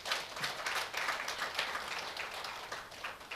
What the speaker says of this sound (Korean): 박수 한번 치셔야 돼